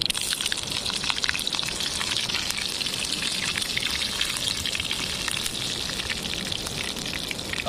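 Green chillies frying in a generous amount of mustard oil at a riverside night camp, a steady, dense sizzle and crackle that stays loud and continuous throughout with no voices.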